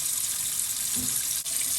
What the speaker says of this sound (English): put your water slightly above the bone